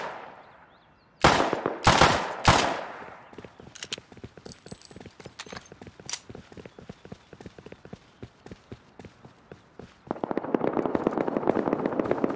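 Automatic AK rifle fire in the survival game Rust: a few heavy booming shots up front, then a long run of rapid, evenly spaced cracks, ending in a louder, denser burst near the close.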